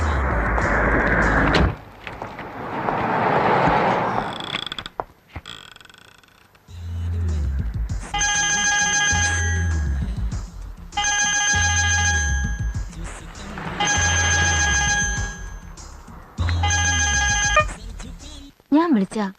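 After voices and other noises, a telephone rings in four or five evenly spaced bursts, each a bright electronic warble with pauses between, and no one answers.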